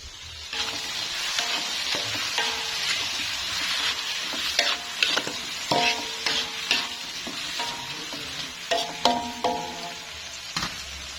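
Soap is fried in a pan, giving a continuous crackling sizzle with stirring scrapes and clinks scattered throughout, close and fairly loud with no voices.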